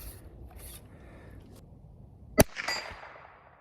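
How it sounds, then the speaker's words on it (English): A single sharp crack from a .22 rifle shot outdoors, brief and fairly close, ringing off quickly into quiet surroundings. "I figured might as well take a couple pop shots with my 22"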